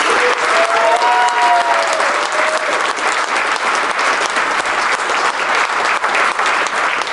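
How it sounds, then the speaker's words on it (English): A big round of clapping from a conference crowd at a trading talks event, loud and continuous throughout, with brief whistles or cheers rising early on. "big round of applause for all of the TraderTalks"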